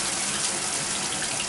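Bathtub faucet water runs and drains in a steady, dense, hissing gush under strong pressure, unbroken and fairly close, with no talking.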